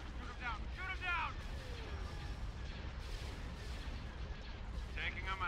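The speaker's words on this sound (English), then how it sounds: "All weapons, fire. Shoot him down." Starship weapons fire in the space battle game Star Wars: Empire at War (Thrawn's Revenge mod), a steady rumbling barrage of cannon and laser blasts, with radio-style voice chatter from pilots cutting in over the din.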